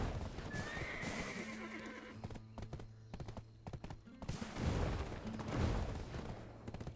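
A horse in the Black Desert video game neighs and clip-clops on hooves, with a whinny early on and hoofbeats continuing at moderate loudness against game sounds.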